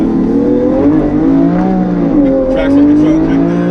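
A Lamborghini Aventador accelerates hard from inside the cabin, its engine note rising and stuttering as traction control cuts in, a loud close roar with wavering pitch, and a voice comes in briefly over it.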